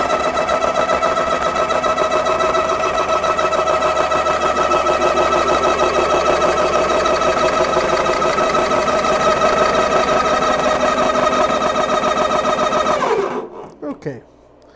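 A ReadyAir personal compressor runs and fills, a loud steady buzzing motor with a rapid pulsing rattle that carries on evenly before cutting off near the end, followed by a few faint clicks.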